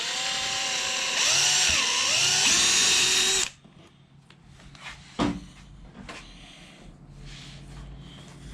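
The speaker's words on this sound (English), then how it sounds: "Go ahead and drill that hole out." A power drill bores a hole through a Hyundai Genesis Coupe's bumper while canards are fitted, a loud steady whine with pitch sags as the bit bites, then it stops abruptly into quieter handling and a sharp knock.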